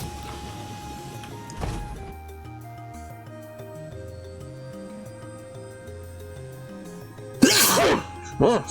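One sharp sneeze bursts out about midway, followed by a second loud burst near the end, over a quiet bed of soft tonal game music from Trails in the Sky 3.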